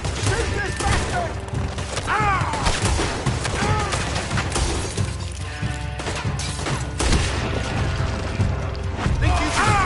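Gunfire from a Red Dead Redemption 2 shootout, with repeated shots and crashes scattered through a dense, loud game mix of music and effects, with voices shouting throughout.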